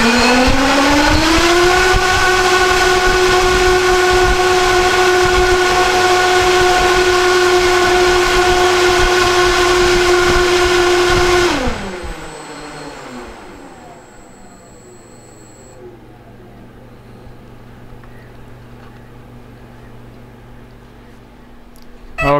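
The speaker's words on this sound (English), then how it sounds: "here I'm going to test the P51B's GNC 4250 540 kV motor with the 1mm shim mod." A G&C 4250 540kv electric motor from a P-51B model plane runs on a dyno test with the 1 mm shim mod, a loud steady high-pitched whine that rises, holds, then cuts off and drops to quiet.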